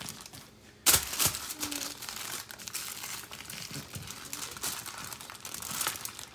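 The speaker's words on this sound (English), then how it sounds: "So we want to double wrap these. So we'll take the other sheet like this." A sheet of aluminum foil is crinkled and folded over a rack of competition-style ribs to double-wrap them, giving close, scattered crackles with a sharp crunch near the start.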